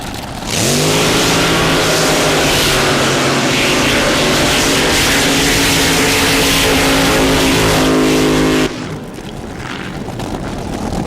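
A drag racing boat's loud, roaring engine screams at full throttle for several seconds, then cuts off abruptly, leaving a lower rumbling background.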